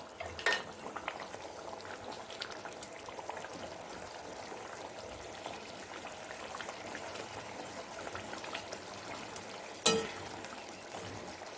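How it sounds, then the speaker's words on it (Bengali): Pieces of fish frying in a pan on a gas stove for a fish chilli, giving a steady low sizzle and bubbling throughout with a brief sharp clatter near the end, no speech. "এবারে গ্যাসটা বাড়িয়ে দিয়ে আমি মাছগুলো আস্তে আস্তে দিয়ে দিলাম"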